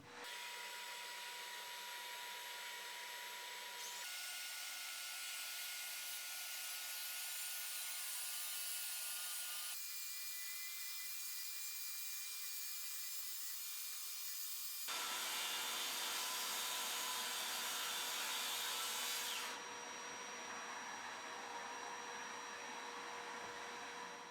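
A circular saw riding a Kreg Accu-Cut guide track cuts through wood, a loud, steady whining roar that shifts in pitch and load across several sections of the cut, with no talking.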